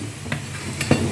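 Soft sizzling from tomatoes sautéing in a pan, with a few light scrapes and stirs of a utensil, close and steady.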